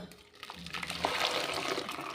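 Cooked dal being poured from a pot into a bowl, a short thick liquid pour that swells into a steady splashing gush, close and fairly quiet.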